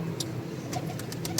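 Pigeons at their nest with eggs and young chicks coo softly, with a few brief bright calls repeating over a steady low background hum.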